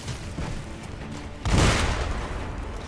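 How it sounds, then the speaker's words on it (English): A single dull boom from a landmine explosion in the Sekiro video game, set at a gun fort, hits midway after a low rumbling background and fades slowly. "Oh, are those landmines? I thought somebody was shooting at us at first, but now I'm wondering if those were landmines."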